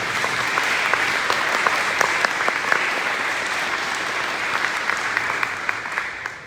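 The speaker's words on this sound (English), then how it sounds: "Can you give all of our partners a round of applause," At a school district breakfast, a roomful of people claps for community partners, a sustained, even round of applause with a few louder individual claps, fading at the end.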